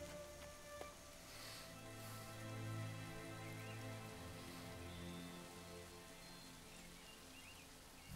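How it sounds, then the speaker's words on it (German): Rain in the video game Assassin's Creed 3, a soft, steady patter of rainfall on surfaces, faint and continuous with a low background hum and no talk. "Fängt an zu regnen."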